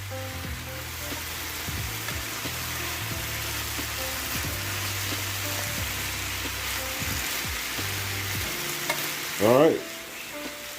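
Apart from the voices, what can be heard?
beef, peppers and onions sautéing in a pan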